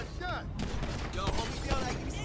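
Gunfire in the video game GTA 5, several rapid shots cracking through close, loud and dense, with voices speaking over the bursts.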